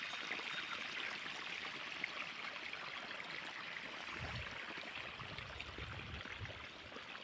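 Irrigation water runs steadily into a wheat field, a continuous trickling, gurgling flow that stays even and fairly close throughout, with no voices over it.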